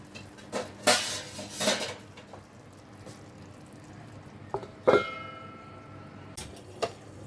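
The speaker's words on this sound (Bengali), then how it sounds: "এবার চাপাটা খুলছি।" A metal lid is handled on a cooking pot of doi paneer, producing several sharp, close clanks and scrapes, with quieter clinks and taps between them and no speech.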